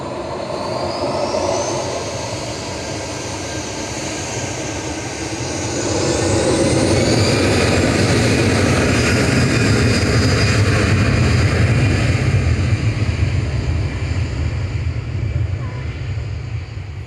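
A passenger airplane rolls past at Manchester Airport, a loud broad jet roar that swells midway and holds steady with a whining engine tone rising and falling over it.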